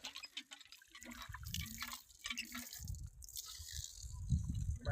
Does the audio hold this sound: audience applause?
no